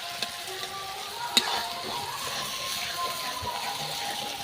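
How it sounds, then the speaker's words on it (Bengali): Onions fry lightly in fifty grams of butter for chicken korma, a continuous gentle sizzle with occasional stirring clinks of a spoon against the pan. "দেখুন পেঁয়াজটাকে একটু হালকা ফ্রাই করব, বেশি ফ্রাই করব না।"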